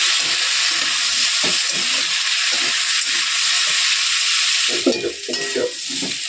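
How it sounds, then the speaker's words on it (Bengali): Panch phoron spices and chilli frying in hot oil in a home kitchen, a steady close hiss and sizzle with scattered spits and pops, louder bursts toward the end, no talking. "আর একটু লালচে লালচে করে ভাজবো, তবে খেতে বেশি ভালো লাগবে"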